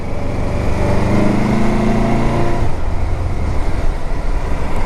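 A 2006 Yamaha Royal Star Deluxe motorcycle engine drones steadily while riding, loud and close, with a smooth harmonic hum that fades into broad wind rush partway through.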